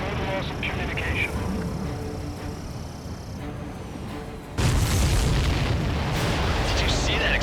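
A deep rumbling explosion in the video game Ace Combat 7 erupts partway through, swelling into a loud roar of debris and wind over steady background noise.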